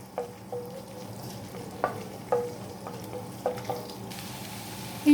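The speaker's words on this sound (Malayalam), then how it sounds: "ഇതിലേക്ക് നമുക്ക് അരിഞ്ഞു വെച്ച വെളുത്തുള്ളിയും അതുപോലെ ഇഞ്ചിയും ആദ്യം ഇട്ട് കൊടുക്കാം. ഇനി ഇത് മൂപ്പിച്ചെടുക്കാം." Chopped garlic and ginger fry in a pan for a mutton curry, a soft continuous sizzle broken by several sharp spatula clinks and scrapes at irregular intervals, close by.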